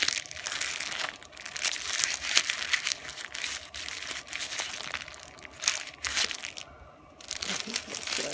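A paper cover is crinkled and crushed in a kitchen, with continuous close crackling and rustling for several seconds and a brief pause near the end.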